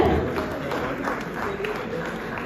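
Steady audience applause fills an award ceremony hall, a continuous dense clapping wash that holds at even loudness for the whole stretch without pause.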